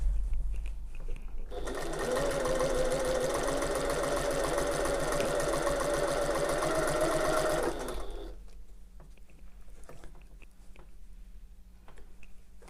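A sewing machine stitches a tote bag at a slow stitch setting, running steadily and fairly loud for about six seconds before stopping, leaving a quieter low mechanical hum.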